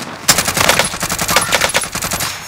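Automatic gunfire in a Call of Duty Warzone Resurgence match, a loud, close rapid burst of shots firing in a fast continuous rhythm for a couple of seconds.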